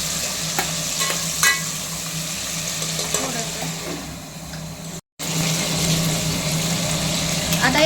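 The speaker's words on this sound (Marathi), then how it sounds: "हे बघा फोडणी अगदी झणझणीत किती छान दिसते बघा" Spiced oil tempering sizzles steadily in a pan for sambar served with idli, with coriander leaves added, while being stirred; a continuous crackling hiss with occasional scraping, briefly cutting out near the end.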